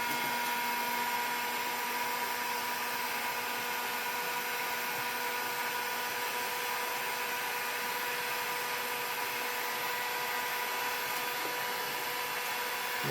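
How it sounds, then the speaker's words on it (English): A heat gun running on high heat, used while extending a wiring harness: a steady, even blowing hiss that holds constant throughout, fairly quiet, with no talking. "So turn on my heat gun. Make sure it's on high heat."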